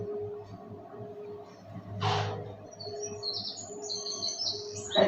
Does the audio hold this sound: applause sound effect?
no